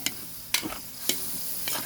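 Pancit bihon rice noodles are stirred with carrots and a little water in a pan, giving four quiet scraping strokes spaced about half a second apart over a faint background sizzle.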